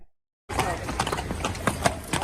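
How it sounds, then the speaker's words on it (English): Hooves of police horses clip-clop on a city street during a protest, a steady run of sharp knocks mixed with crowd noise and some voices. "the asshole police on horses are blocking traffic more than the protesters right now"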